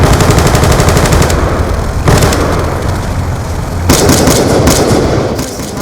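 An RPG rocket launcher fires in a video game, loud, dense blasts and rapid gunfire-like bursts in several waves, with no talking.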